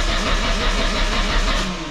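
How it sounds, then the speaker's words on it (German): A car engine revs under throttle, giving a steady, close, mid-pitched droning roar with no talking. "kannst du mal dein Auto anmachen und ein bisschen Gas geben?"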